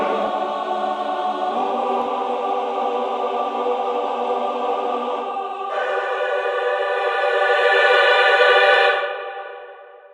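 Choir Essentials, a sampled choir library by Stratocaster Sampling, sings sustained legato chords with a bright, rising shift midway before fading out, heard alone with no talk.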